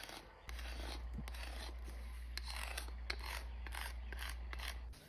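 A plastic card is dragged across coated red oak grain in a series of short, dry scraping strokes. The strokes are soft and close, set against a steady low background hum, with no talking.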